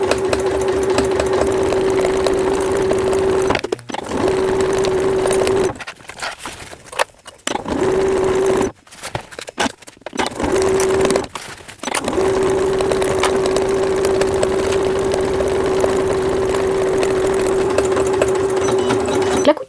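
A sewing machine stitches all around a child's rain cape at 1 cm from the edge, a loud, close, steady motor whir with a pitched hum, broken by several short pauses before running on again, no talk.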